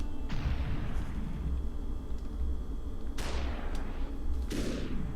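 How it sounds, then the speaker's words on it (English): Gunfire from enemies in the video game SUPERHOT, three sharp, echoing shots spaced a few seconds apart over a low background rumble. "Oh, and he is shooting at me."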